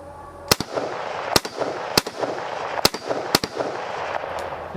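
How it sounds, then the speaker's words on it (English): Five sharp, loud rifle shots fired at a steel target on an outdoor gun range, spaced roughly a second apart, each a crisp crack with a short ringing tail over steady background noise. "we're gonna go ahead and just send a couple of rounds down range here"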